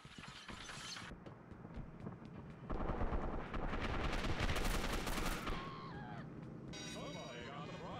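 Sniper rifle gunfire in the video game Gotham City Impostors: sharp mechanical bolt and gun sounds ring out over a busy game soundtrack, with a louder burst of action in the middle of the passage.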